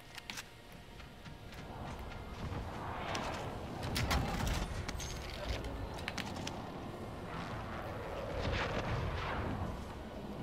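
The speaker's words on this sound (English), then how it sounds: "Be advised, friendly precision airstrike inbound." Explosions from a precision airstrike in the video game Warzone on Rebirth Island boom and rumble repeatedly at a distance, with sharp crackling impacts spread across the stretch.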